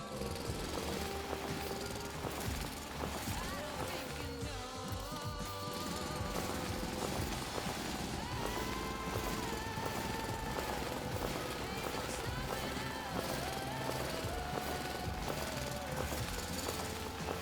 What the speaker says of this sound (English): This will be just drilling the whole time.